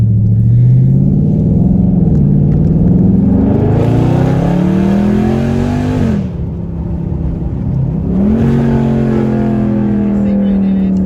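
Dodge Charger 392 Scat Pack V8 revving hard and climbing through the gears, a loud close engine tone rising, dropping at each shift and rising again, with voices talking inside the car.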